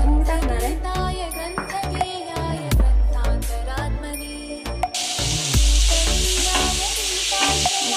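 Roasted coconut and jaggery stirred in a pan for steamed modak, a spoon scraping and clinking over a steady sizzle, with a brighter hiss building in the second half.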